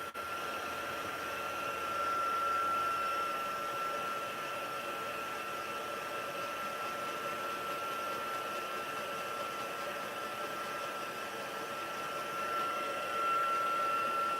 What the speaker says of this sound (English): Then we'll hit that with the heat gun.